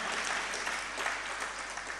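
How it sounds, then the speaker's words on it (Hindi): An audience at a Jain religious discourse claps together in a brief, fairly soft burst of continuous applause, somewhat distant. "एक बार जोरदार तालियां बजाइए"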